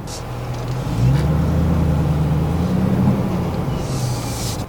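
A car engine hums steadily at close range, rising slightly in pitch and then settling as the vehicle slows.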